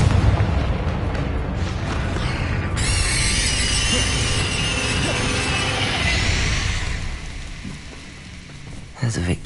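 A Confringo explosion spell in the Hogwarts Legacy video game erupts as a boom that swells into a sustained crackling, rain-like roar for several seconds before fading, over continuous game background sound.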